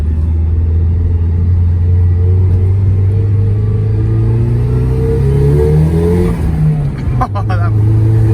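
A turbocharged Nissan S13 with a Rocket Bunny widebody kit accelerates hard, heard loud from inside the cabin, its engine note climbing steadily before a brief dip near the end.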